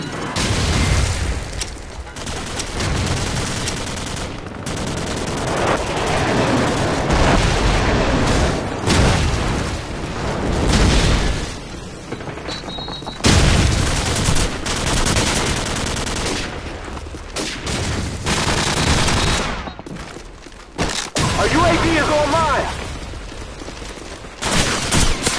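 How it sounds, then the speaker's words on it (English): Call of Duty 4 match audio is packed with heavy booming explosions and rapid machine-gun fire, loud and dense throughout, with blasts landing in repeated waves. "Airstrike standing by."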